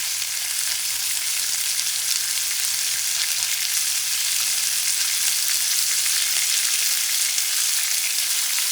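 Minced garlic fries in a pan over medium-high heat while shrimp sandwiches are being made, giving a steady, close, even sizzle that hisses on throughout with no talking.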